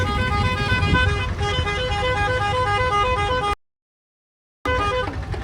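Car and bus horns blare in dense traffic near a temple fair, with long sustained honks over a continuous road rumble, cut by a second of silence before the honking resumes.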